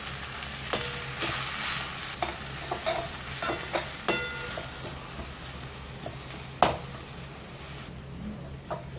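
Gongura (sorrel leaves) sautéed in a pan, with steady sizzling and frying under repeated sharp clicks and scrapes of a spoon stirring against the metal, close and fairly quiet.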